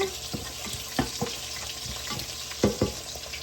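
Plenty of ginger fries in a pan after the garlic, ahead of onion and coconut milk for tilapia, with a steady sizzle and several sharp scrapes and clatters as it is stirred.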